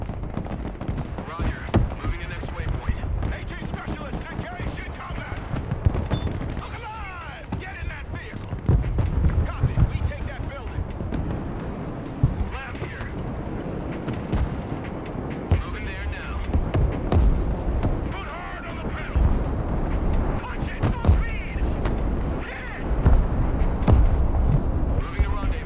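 Rocket artillery barrages in the strategy game Broken Arrow, dense rolling booms and crackling gunfire rumbling continuously under intermittent voice chat.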